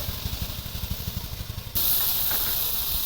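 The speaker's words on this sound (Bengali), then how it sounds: "ভাজা হয়ে গেছে আমি এবার আলুগুলো ভেজে নেব" Potatoes go into hot oil: soft low thumping gives way suddenly to a loud, continuous bright sizzling hiss that holds steady to the end.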